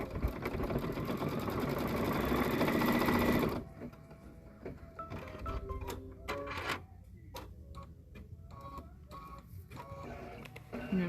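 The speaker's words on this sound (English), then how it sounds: "now we're going to stitch the placement line for our beak" An embroidery machine stitches a placement line for an owl's beak on an in-the-hoop Valentine treat bag, starting with a loud, fast, steady whirring run, then dropping to quieter irregular ticks and clicks, close by.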